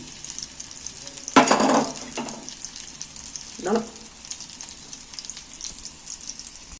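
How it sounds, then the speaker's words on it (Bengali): Egg yolks drop one at a time into a pan with a little oil, with a soft continuous sizzle and two louder bursts of spitting as each yolk hits the hot surface. "এবার আমি একটা একটা করে এর মধ্যে ঢেলে দিচ্ছি ঢেলে দিচ্ছি ডিমের কুসুমগুলো একটা একটা করে দিয়ে দিচ্ছি"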